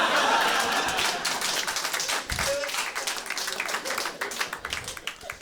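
A comedy club audience claps and taps briskly after a stand-up joke, the applause loud at first and thinning out into scattered claps, with a bit of laughter mixed in.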